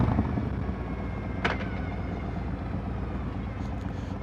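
A Harley motorcycle's exhaust, captured by a microphone at the exhaust, gives a steady, dense low rumble throughout, with one brief sharp click partway through.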